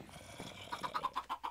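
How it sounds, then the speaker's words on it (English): Chickens on a chicken farm in the Minecraft video game give a short series of clucks, about six evenly spaced soft calls following a brief quiet stretch, moderately close. "Here's my chicken farm."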